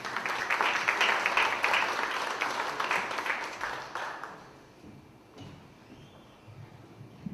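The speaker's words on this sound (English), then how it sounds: "Please join us in giving a special round of applause to the whole team that contributed" Audience applause for the whole show team, a full crowd clapping steadily for several seconds before dying away into a quiet room with faint murmurs.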